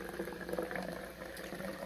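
Sweet Leaf lemon lime carbonated water is poured in a short, quiet stream, a faint fizzing, bubbling trickle with no talking.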